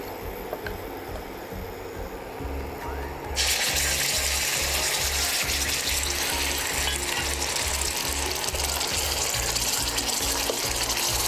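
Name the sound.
onion paste frying in oil with spices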